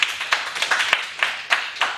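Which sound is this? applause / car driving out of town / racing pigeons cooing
applause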